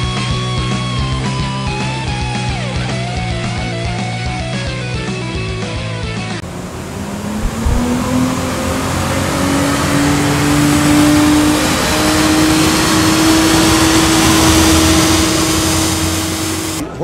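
An engine revs hard on a dynamometer during a horsepower pull at a Lincoln Tech dyno day in Mahwah, New Jersey, loud and close, climbing steadily in pitch after a noisy opening section.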